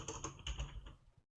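Fingers type a quick burst of clicks on a computer keyboard, several close, light keystrokes in a row before a short pause.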